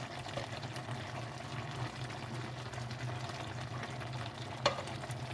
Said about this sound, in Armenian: Սոուսից լցնենք գրեն։